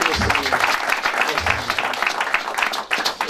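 A church congregation applauds loudly for a pastor, dense steady clapping filling the whole stretch with some voices mixed in.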